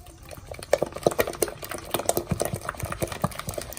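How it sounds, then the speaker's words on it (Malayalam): Soft, rhythmic wet slaps and scrapes of a spoon stirring thick banana fritter batter made with fermented rice batter and baking soda, a steady quick beat held close up with no voices. "ഇനി നമുക്ക് നന്നായിട്ട് ഇളക്കി കൊടുക്കും."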